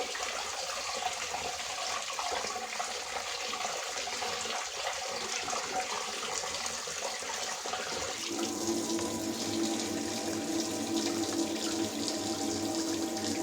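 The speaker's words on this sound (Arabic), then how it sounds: "احنا ايه بنغسل الرز كده وبنحط ميته فين؟ على السمك" Tap water running steadily while rice is washed in a kitchen sink, a continuous splashing hiss that grows fuller and denser partway through as the flow or pouring changes.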